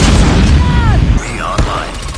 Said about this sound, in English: Friendly nuke launched.